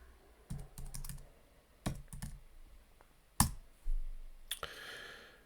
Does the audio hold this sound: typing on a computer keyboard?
yes